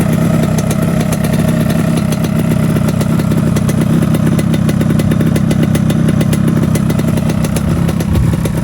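Yamaha RX King New Master motorcycle idling in neutral up close, a loud, steady two-stroke putter with light rattling clatter throughout, without speech.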